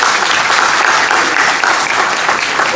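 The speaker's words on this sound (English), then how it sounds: "Round of applause for yourself." An audience at the FutureScope 2013 conference at Republic Polytechnic breaks into loud, sustained applause, a thick, continuous patter of many hands filling the room without pause or talk.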